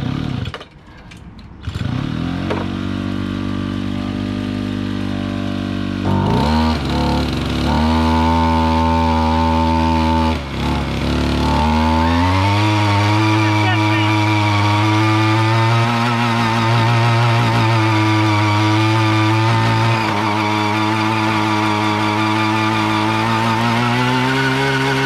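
Mini chopper motorcycle revving hard through a burnout, a loud, close engine that starts up, rises into a sustained high-rpm buzzing drone with brief dips, then holds at full throttle.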